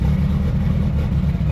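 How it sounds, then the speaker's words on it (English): Mitsubishi Lancer Evolution VIII engine running right after start-up following a fuel pump replacement, a steady, loud low rumble close by with no talk. "Now I'm just gonna throw on the negative terminal back on the car, and we're gonna start her up."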